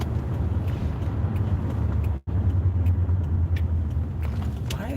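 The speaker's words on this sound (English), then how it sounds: "Why is that random car just sitting there like that?" A car sits idling outside, giving a steady low engine rumble that continues throughout at moderate distance, with one brief dropout midway.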